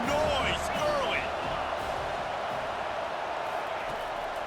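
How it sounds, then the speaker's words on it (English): Stadium crowd roar in EA College Football 25, a steady broadband wash of cheering and noise filling the whole span with faint commentary tones over it. "This crowd bringing the energy and noise early."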